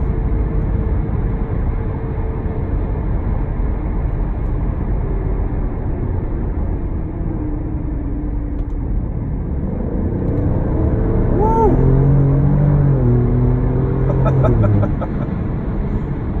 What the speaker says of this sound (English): take it through some curves and give you an idea of how this car performs on twisty roads